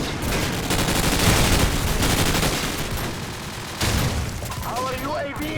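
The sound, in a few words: air strike explosions and gunfire in Call of Duty video game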